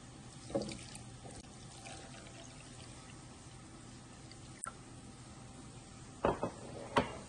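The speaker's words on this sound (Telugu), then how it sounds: "దానికి సరిపడా నీళ్ళు వేస్తున్నా." Water is poured into a bowl of jaggery to make a sweet drink, with a few quiet splashes and trickles in short bursts near the start and end against a faint background.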